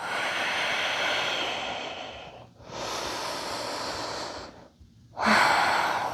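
Deep, steady breaths drawn and released during a yoga flow, long airy exhalations broken by brief pauses, with a sharper, louder breath near the end; close and alone, no talking.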